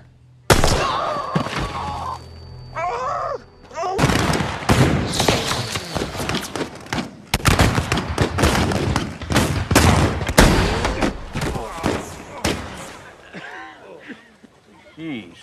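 Gunfire in a Western action movie trailer, rapid bursts of shots and heavy thuds mixed with dramatic music, with characters speaking between the volleys.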